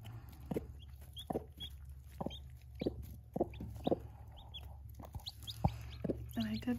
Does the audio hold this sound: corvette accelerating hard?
no